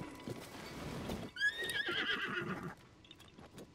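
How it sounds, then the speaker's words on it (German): A horse in Zelda: Tears of the Kingdom gives a clear, loud whinny midway, with soft hoof clip-clops before and after it against quiet game ambience. "da war mal ein Pferd angeblich"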